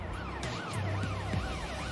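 A police car siren wails in rising and falling sweeps over road traffic noise, loud and fairly close, with no talking.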